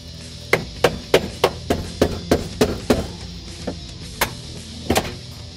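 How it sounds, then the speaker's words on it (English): A hammer drives a chisel to knock loose the front floor cross brace on a 1983-1993 Mustang, about a dozen sharp metallic strikes in a steady rhythm that then slows to a few spaced blows. "grab a hammer, some sort of a chisel, flathead screwdriver, and just start hammering it loose"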